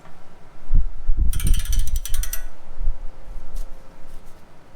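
Ratchet wrench loosening 14 mm upper ball joint bolts on a 2000 third-generation Toyota 4Runner, a quick burst of close, loud metallic ratcheting clicks lasting about a second amid low clunks, then quieter garage noise.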